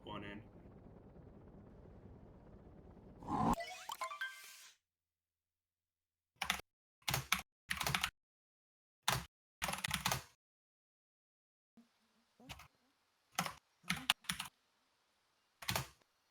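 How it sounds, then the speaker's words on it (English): Short bursts of computer keyboard typing, with quick clusters of crisp, close key clicks separated by pauses of silence, coming after an opening stretch of muffled background noise. "Sorry, ignore my typing as I do this."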